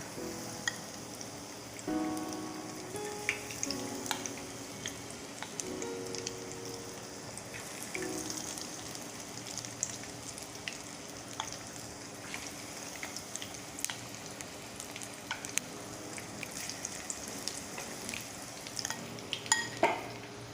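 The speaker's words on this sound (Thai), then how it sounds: "เดี๋ยวทอดให้เหลืองกรอบก็ใช้ได้เลย" Batter-coated khanom khiang deep-frying in oil over medium heat: a steady crackling sizzle with scattered pops and occasional stirring clinks, continuous and close throughout, no talking.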